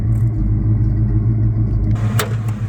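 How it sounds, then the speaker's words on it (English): A 1986 Ford Mustang engine with its factory cam idles close by in a steady, low rumble, and a brighter burst of broadband noise rises over it near the end. "You hear that's a factory cam in there."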